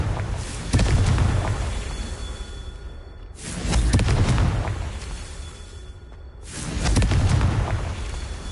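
Three Confringo fire-spell blasts go off in Hogwarts Legacy, each a loud booming burst that fades into a rumbling tail, spaced a few seconds apart.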